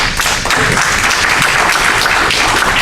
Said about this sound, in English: So I just want to just give them a big round of applause,